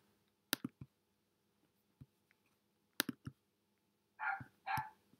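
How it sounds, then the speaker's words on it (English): A dog barks in short, faint bursts indoors, with a pair of louder yelps near the end, interspersed with quiet clicking sounds and no talking. "Shut up, dog."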